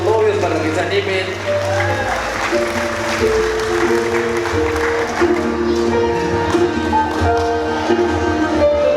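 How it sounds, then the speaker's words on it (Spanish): Applause for the bride and groom at a wedding, a crowd clapping steadily beneath loud amplified speech and music. "Escuchen sus aplausos para los novios, para que se animen."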